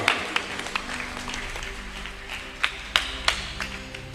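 Scattered clapping from an audience at a large Christian crusade in Kisumu City, a few sharp irregular claps standing out over a low steady background hum.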